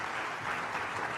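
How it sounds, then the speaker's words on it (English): A conference audience applauds a speaker being welcomed onstage at a food-industry event: dense, steady clapping that holds at an even level throughout the short stretch, with no voices over it. "Please give him a big round of applause and a warm welcome."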